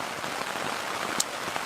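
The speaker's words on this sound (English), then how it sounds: "waking up to pouring rain" Pouring rain patters steadily on a surface outdoors at a lakeside campsite, forming a dense, even hiss with one sharper drop tap.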